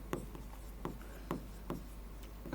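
Writing strokes on a board or paper during a maths lesson on cylinder surface area: quick scratchy strokes in short, uneven bursts, close and fairly quiet, with no talking.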